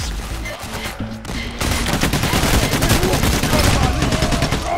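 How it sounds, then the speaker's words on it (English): Dense game gunfire from Payday: The Heist, a sustained fusillade of rapid shots that swells louder after the first second and continues steadily throughout, with game noise and faint voices mixed underneath. "Oh, I'm being shot."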